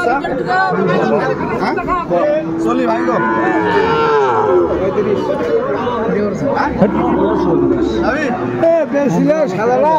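Sahiwal calves and cattle at a busy livestock market moo loudly and repeatedly, close by, over steady crowd chatter and bargaining voices.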